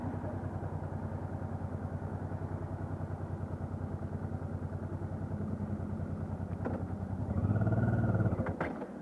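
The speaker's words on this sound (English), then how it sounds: "This has a nice sounding exhaust." A Honda NT700V Deauville motorcycle with its stock exhaust idles steadily in a low, even, pulsing burble, then the engine note swells briefly near the end before settling; no talking.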